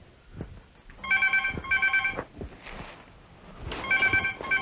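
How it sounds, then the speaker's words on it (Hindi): A telephone bell rings in two bursts, a pause, then rings again, loud and close with a bright metallic trill and no talking. "किसका फोन आ गया?"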